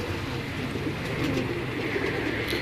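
Teddy pigeons coo softly and repeatedly nearby over a steady background hum, with a few faint chirps and no talking.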